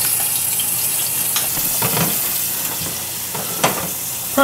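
Peppered steaks for steak au poivre fry in a pan on the stovetop with a loud, steady crackling sizzle throughout, close and dense, with occasional sharper pops and a clatter at the end.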